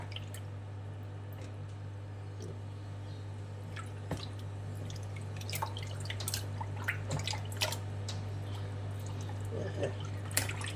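Water trickling and dripping as it runs through salted dry sausage casing, close and soft, with scattered splashy drips over a constant low hum.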